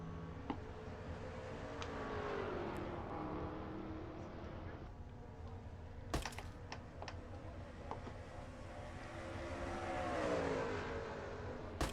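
A racing truck engine roars at speed on a road course in a video game, with a continuous droning whine that swells and fades as it passes, plus sharp clicks of keyboard typing over it.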